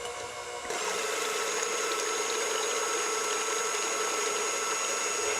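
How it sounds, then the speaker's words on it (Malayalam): An electric beater switches on sharply under a second in and then runs steadily, whirring and whining as it whips egg whites for a fruit cake, close and continuous with no voices. "മുട്ടയുടെ എഗ് വൈറ്റ് നന്നായിട്ട് ബീറ്റ് ചെയ്തെടുക്കണം."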